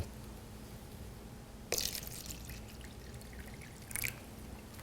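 Tap water poured in two short bursts, a splashing rush followed by a brief trickle, against a faint steady background hum.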